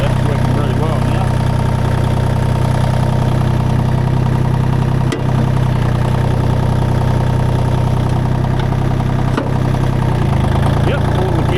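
A Kubota L1-18 tractor engine runs steadily in gear after a clutch repair, giving a loud, continuous close-up rumble with a couple of brief knocks.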